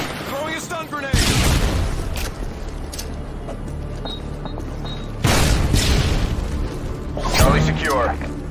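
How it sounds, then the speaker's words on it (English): A stun grenade detonates with loud booming bursts amid gunfire during a Domination match on the Terminal map in Call of Duty: Modern Warfare 2, with radio voice callouts over the action. "Throwing a stun grenade!"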